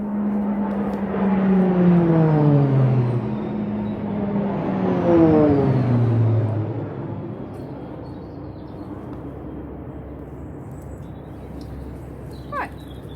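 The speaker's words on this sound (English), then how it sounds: "Oh, sorry, planes." Airplanes pass overhead during a garden session of taking rosemary cuttings and potting on, a loud propeller-like drone rising and sweeping past in two waves before fading into a quieter background hum.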